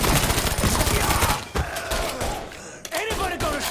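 Automatic gunfire in the Mafia 3 video game, dense and continuous through the first half, then broken into shorter bursts with game sound around it and no clear talk.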